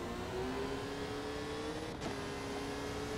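A formula race car in the game Victory: The Age of Racing drones with a steady, rising engine tone, a sustained whine that dips briefly midway and then carries on at moderate volume.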